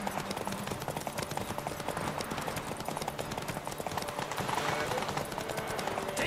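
A horse's hooves gallop in The Witcher 3, a steady clip-clop rhythm running throughout at moderate level beneath game ambience.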